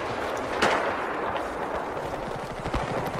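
Mortar fire in the video game Battlefield 4: a heavy booming burst near the start, followed by a rolling rumble of continued gunfire and blasts with no talk.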